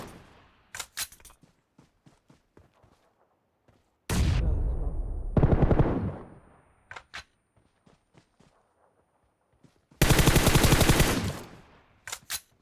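Gunfire in the mobile battle royale game PUBG Mobile: scattered single sharp shots, then two loud sustained bursts of automatic fire, heard close and without any voice.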